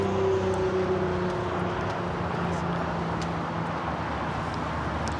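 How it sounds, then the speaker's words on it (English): An Air Canada Boeing 787-9 Dreamliner taking off at Los Angeles LAX, a steady broadband jet roar heard from a distance, sustained and even. "This is Air Canada 555 taking off to Vancouver on the"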